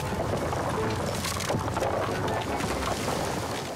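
Floodwater pours over the top of a dam during 24 hours of rain, a dense, continuous roaring wash heard alone at steady loudness.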